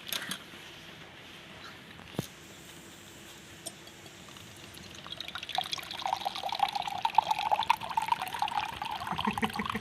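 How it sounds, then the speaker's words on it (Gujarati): Coconut water from a whole farm-grown coconut poured straight into a glass, a soft trickle that grows into a steadier, brighter liquid splash over the last few seconds, close by with no talk. "પાણી પણ ઉપર આવી ગયું સીધું ગ્લાસમાં"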